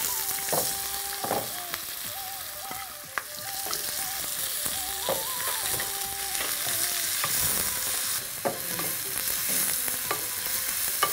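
Bay leaf, cloves and finely chopped onions frying in oil for a mutton curry, a steady bright sizzle with frequent scrapes and taps of stirring throughout.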